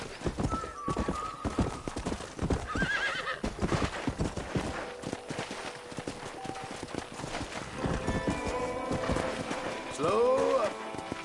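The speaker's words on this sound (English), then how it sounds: "let's see if you can still ride a horse." A horse in the Red Dead video game gallops with steady, rhythmic clip-clopping hoofbeats and loud whinnies near the end, while speech runs alongside.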